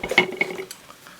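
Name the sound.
Trangia storm cooker set parts clinking as taken out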